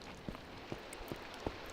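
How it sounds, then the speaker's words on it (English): Soft Minecraft rainfall, a quiet steady wash broken by a handful of separate low patters spaced roughly every half second, with no voices. "It's raining"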